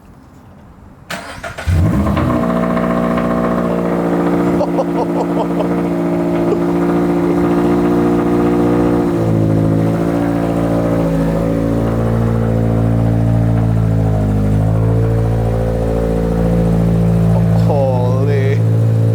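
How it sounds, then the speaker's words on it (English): A 2022 Subaru BRZ/GR86 fitted with a Tomei Expreme Ti titanium catback exhaust cold-starts inside a garage, the starter catching after about a second into a loud, steady, droning high idle that echoes off the walls and holds throughout. "Let's get the first cold start. It's in the garage, so it's definitely gonna sound loud."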